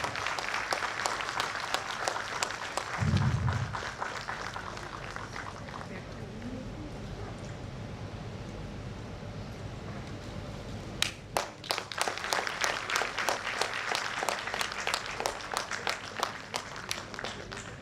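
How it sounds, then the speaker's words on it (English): Crowd applause at a women's convention swelling and fading, then a second burst of sustained clapping; a voice speaks briefly amid the room noise. "A big round of applause."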